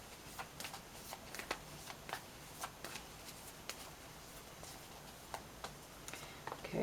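Tarot cards shuffled by hand in a quiet room, giving a soft, steady patter of small papery flicks and taps that continues throughout at low volume.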